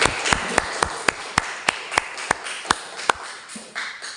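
A class clapping hands together in a roughly even rhythm, about a dozen sharp, close claps spaced about a third of a second apart over faint room noise.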